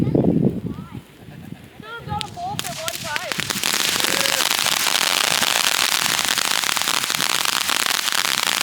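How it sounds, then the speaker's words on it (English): Fourth of July fireworks and firecrackers: people's voices and scattered pops come first, then a loud, dense barrage of rapid crackling builds and carries on without a break. "I'm gonna leave you guys with our 4th of July fireworks celebration from last night"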